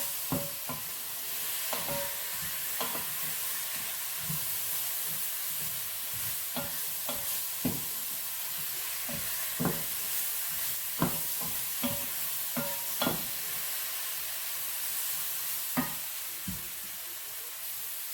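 Onion sautéing in a pan for chicken Manchurian, a low steady sizzle punctuated by regular spatula scrapes and taps, close by and moderately quiet.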